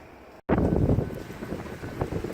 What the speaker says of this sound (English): It's kind of windy out here in sunny Moab